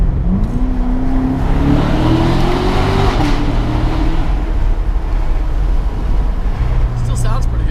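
A powerful Corvette Grand Sport engine revs up and climbs in pitch, then settles into a steady low rumble, loud and close throughout.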